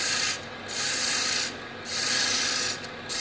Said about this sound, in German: Wenn man die Fasern abschält, dann geht es deutlich schneller.